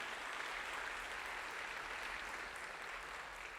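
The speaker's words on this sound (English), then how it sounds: "Can we give a big round of applause for Sound Toys for helping us do this for free?" Audience applause at a mixing masterclass, steady sustained clapping from a crowd, fairly quiet and even throughout.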